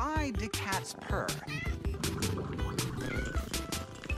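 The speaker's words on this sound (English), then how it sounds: "Why do cats purr?" A cat meows and yowls in several drawn-out, rising and falling cries over busy music and mixed sounds, loud and close, with a talking voice briefly in the mix.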